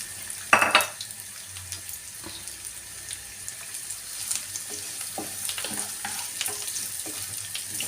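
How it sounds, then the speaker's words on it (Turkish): Onions sautéing in a pan for a turnip-pickle stir-fry give a steady broadband sizzle, with a sharp clatter of stirring near the start and small utensil scrapes throughout; no voices. "iyice kokusu çıkana kadar kavuracağız arkadaşlar"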